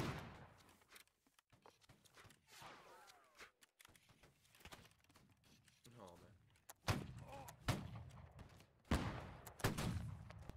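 Musket volleys in the Holdfast: Nations At War line battle crack out as scattered shots and then several loud ragged bursts, mixed with footsteps and voices calling commands.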